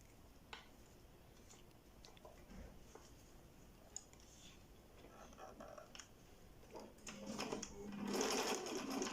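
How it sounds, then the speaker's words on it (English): A Husqvarna Viking 3020 sewing machine stitches through six layers of leather: faint ticks and taps at first, then a loud, dense buzz of rapid stitching swells in near the end. "6 pieces of leather, and I'm going to sew here."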